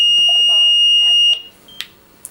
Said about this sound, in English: Okay, so the alarm goes off, you get the red square up on the screen.